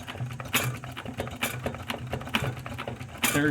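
A sewing machine stitching a leather multitool belt-clip holster, running in short rhythmic bursts of rapid mechanical clatter with brief pauses and restarts, close and fairly quiet, with no speech.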